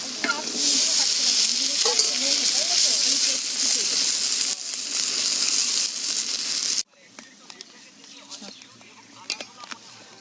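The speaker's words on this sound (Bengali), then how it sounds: "এবার আছে বাদাম আর কিশমিশটা মধ্যখানে ভেজে নেবো" Nuts and raisins sizzle loudly in a hot pan with a constant hiss and some stirring, then the frying noise cuts off abruptly, leaving quiet clatter.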